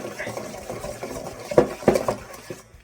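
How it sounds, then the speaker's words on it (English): A whisk clatters and scrapes through a coconut macaroon mixture in a bowl, with uneven stirring strokes and a few sharper clinks against the bowl, close and fairly loud. "Let's mix all that coconut and stuff together. I don't know why I'm using a whisk though."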